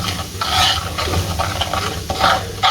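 A spoon stirs ground spice masala into a tandoori chicken marinade, giving repeated wet scraping and mixing strokes in an uneven rhythm, close and fairly loud, with no talking.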